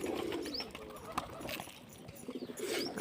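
Pigeons coo softly in a nesting spot, low throaty calls with a couple of brief higher chirps, faint and close amid light rustling and background noise.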